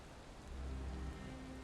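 Rain in a video game, a steady broadband hiss of falling rain that swells slightly midway, heard alone without voices.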